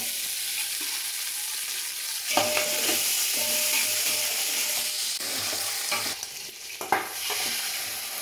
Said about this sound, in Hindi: ऑनियन डाल के हम इनको गोल्डन ब्राउन करेंगे और उसके बाद इसमें गोश्त डालकर भून लेंगे।